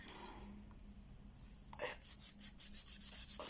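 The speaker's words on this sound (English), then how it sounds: "sand it down a little bit" Sandpaper rubbing over a small craft piece to trim it to fit, a rhythmic series of short scraping strokes starting faintly and growing steadier and louder, about eight strokes in a regular back-and-forth pattern.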